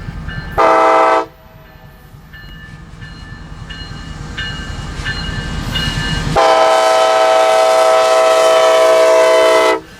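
A diesel freight train hauled by EMD SD70ACe locomotives rolls past close by, its horn blaring in long loud blasts over the steady rumble and clatter of the cars.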